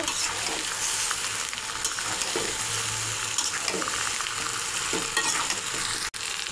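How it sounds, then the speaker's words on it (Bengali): Raw mango pieces fry in hot oil for a sweet-sour-spicy pickle, giving a steady close sizzle with occasional stirring scrapes and small pops throughout. "এই আমটাকে কিছুক্ষণ ভেজে নেব"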